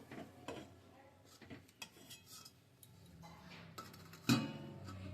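A lid goes onto a pot on a kitchen stove after the gas is switched off, with light metallic clinks and scrapes ending in one sharper clank near the end, close and alone.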